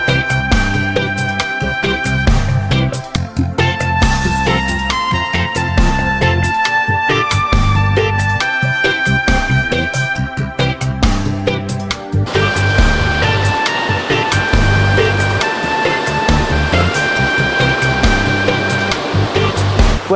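The autumn waterfalls at Kent Falls, a series of upper, middle and lower cascades, give a steady, dense wash of falling water with no breaks and no voices, close and constant throughout.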